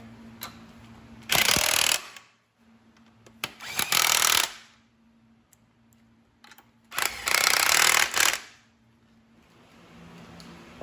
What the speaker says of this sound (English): now we're going to tighten it down with a 13mm socket